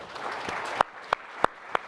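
Clapping for conference panelists at an ICO legality session, a few loud, separate hand claps in an even rhythm over faint background murmur, more like scattered claps than full applause.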